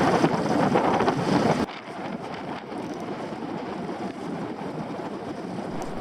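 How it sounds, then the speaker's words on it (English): Strong wind roars across the microphone aboard a small sailboat motoring with the mainsail down on Finland's Lake Keitele, a loud, steady buffeting that drops in level after a couple of seconds and continues without speech. "Leading into 8 to 10 meters per second wind."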